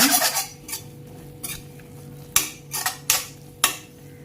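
A spoon knocks and scrapes against a pan as cooked-down tomatoes are stirred for a pepper chicken fry. About half a dozen distinct metallic clanks sound close up, with quiet gaps between them and no voices.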